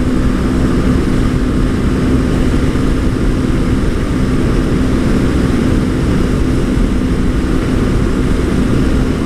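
A Honda NC motorcycle engine cruises at about 130 km/h, near 8,000 rpm, into a strong headwind. A loud, steady drone with a constant hum is blended with wind rush, unbroken and with no talk.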